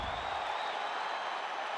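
A crowd roars steadily at an MMA fight between Belal Muhammad and Mike Malott, a dense, continuous wash of cheering that stays even and fairly distant throughout.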